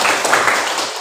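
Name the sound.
classroom applause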